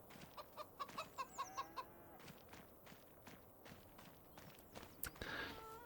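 Chickens cluck in a Farming Simulator 25 farmyard, a run of short rhythmic calls early on, then scattered clucks and soft footstep-like taps with a louder burst near the end.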